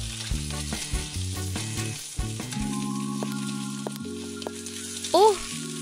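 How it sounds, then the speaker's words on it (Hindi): Sausages frying in a pan give a steady sizzle beneath loud, stepping musical tones, with a few soft knocks and a brief swell near the end. "मैं कुछ सॉसेजेस फ्राई करूंगी। पैन में डाली।"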